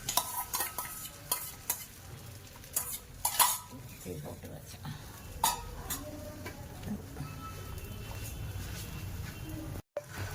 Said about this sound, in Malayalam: അപ്പം അതിന് വേണ്ടുന്ന മുട്ട നമുക്ക് ഇതിനകത്തോട്ടൊന്ന് ഒഴിച്ചു കൊടുക്കാം, ഈ പാനിലോട്ട്.